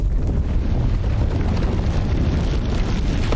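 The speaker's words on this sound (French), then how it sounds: "La bombe nucléaire explose" A nuclear bomb detonates in the post-apocalyptic drama Fear The Walking Dead, a continuous, loud, deep roaring rumble with no break.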